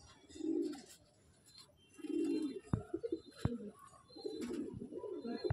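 Aggressive Andhra/Chennai-breed pigeons coo in low, rounded bursts while being held in the hand, three or four throaty calls rising and fading close by, with a few sharp handling knocks between them.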